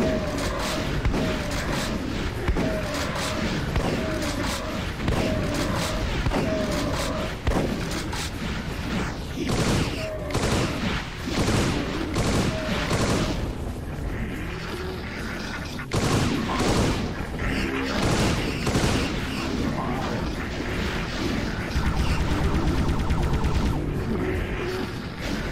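Plasma rifle firing in Doom II, a rapid, continuous stream of loud shots and booms that runs the whole stretch, with brief pauses and shifts in intensity.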